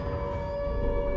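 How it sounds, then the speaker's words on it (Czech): A siren in the survival horror game Silent Hill 2 Enhanced Edition, a steady sustained wailing tone holding at a loud, even level throughout with no speech over it. "Siréna."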